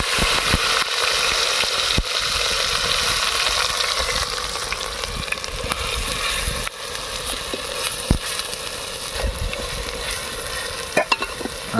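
Onion and cumin seeds frying in hot oil for a Kathiyawadi chavanu curry, a dense, steady sizzle with light stirring clicks throughout, close and fairly loud, with no talking.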